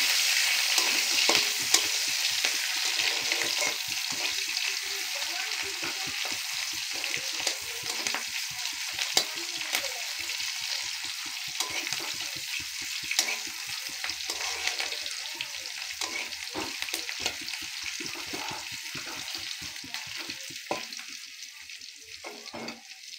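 Sliced onion fries in hot oil with cumin in a pan, a bright, steady sizzle throughout, broken by frequent scraping and clinking strokes of a spatula as it is stirred, close and loud with no talking.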